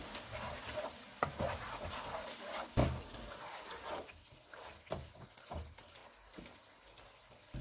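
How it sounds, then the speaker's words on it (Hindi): Chicken stirred in a pan with garam masala powder for white biryani, a close, quiet scraping and shuffling with irregular spoon knocks over a faint sizzle, no talking. "हाफ़ टी स्पून गरम मसाला पाउडर डालेंगे। इसको मिक्स करेंगे।"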